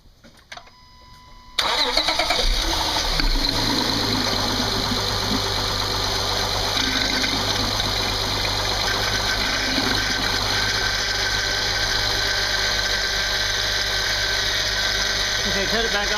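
A Honda car engine cranks and starts after a power steering fluid fill, then settles into a steady, loud, close idle with a constant hum and faint whine, running uninterrupted for over ten seconds.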